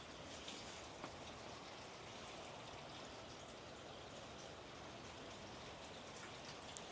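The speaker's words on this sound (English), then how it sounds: "Yeah, that would be a pouring rain out here." Steady heavy rain pouring outdoors, a dense continuous hiss with water running and trickling, occasional louder drops, no voices.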